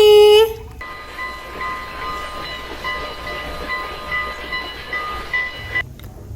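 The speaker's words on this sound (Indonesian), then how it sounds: "Muncullah lokomotif kereta api." A toy train locomotive sounds a brief electronic horn, then gives off a steady mechanical rumble of running-train sounds with a faint whine. A short clunk comes near the end.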